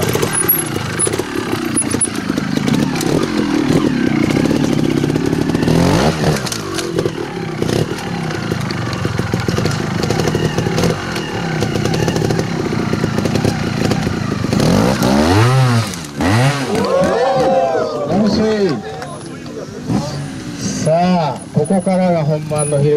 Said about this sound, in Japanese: スーパークロス、やっぱこのアクセル音が、